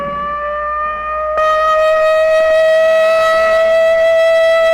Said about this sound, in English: But tomorrow, this siren may mean the real thing.